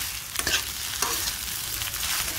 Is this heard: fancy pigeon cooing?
no